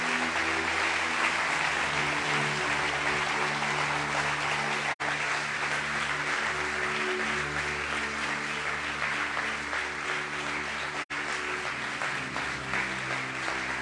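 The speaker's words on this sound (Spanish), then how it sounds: "Dale un aplauso fuerte a Él." Congregation applauding during a Spanish-language church sermon, steady dense clapping over sustained music or organ tones, continuous at moderate level with two brief dropouts.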